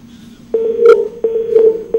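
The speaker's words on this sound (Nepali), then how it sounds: "यति बेला उहाँले फोन पनि काट्नु भएको छ" A telephone line tone follows a call being hung up: a steady, loud electronic tone broken by short repeated pulses and clicks, heard alone.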